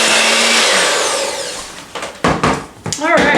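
An electric mixer on low speed blends butter into blueberry buckle batter, a steady whirring drone that fades out before a person starts talking over the kitchen noise.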